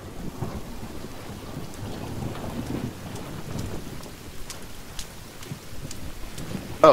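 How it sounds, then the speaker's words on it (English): Rain pours steadily with deep, continuous thunder rumbling underneath in The Forest, a survival video game; the storm holds an even, moderately loud level, with a brief sharper burst at the very end and no voices. "Thunder."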